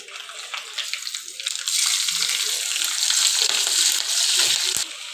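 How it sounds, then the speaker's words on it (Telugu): Green chillies frying in hot oil make a dense, steady hiss and sizzle that grows louder partway through and stays close, with a few faint clinks. "పచ్చిమిరపకాయలు కాస్త ఫ్రై అవ్వాలి. ఆల్రెడీ అవుతున్నాయి."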